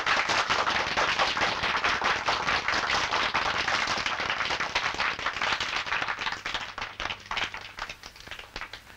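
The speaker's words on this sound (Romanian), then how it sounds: "Aplauze zguduitoare." Loud, thunderous applause from a large audience, dense rapid clapping that holds steady and then thins into looser, more scattered claps toward the end.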